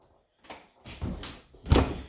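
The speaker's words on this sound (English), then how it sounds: "technically it's not cooking until I really close the door" An oven door is shut during home cooking, giving a few soft knocks and a final louder thud, close by and quiet.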